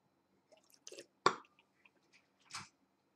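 A taster swishes a sip of Apothic red wine around the mouth, heard as a few quiet, wet slurping and sloshing bursts with short gaps between them, close and otherwise silent.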